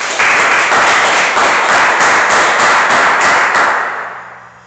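A congregation bursts into loud, dense clapping for Jesus during a church service, a steady wash of many hands that holds strong for about four seconds and then fades out.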